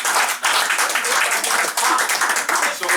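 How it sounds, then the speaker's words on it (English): An audience at a county Republican gathering announcing primary candidates claps together, a dense crackling wall of applause that is loud and sustained throughout with only brief dips. "That'd be a great time to clap."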